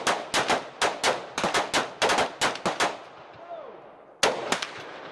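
Rifle gunfire on a shooting range, loud close shots in rapid irregular bursts with a pause and ringing decay before a final short burst of several more shots.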